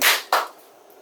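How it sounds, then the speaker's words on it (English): Two sharp hand claps, the first strong and the second a little softer about a third of a second later, close to the mic and alone, used to sync podcast audio during a studio Christmas special recording. "1, 2, 3, and clap"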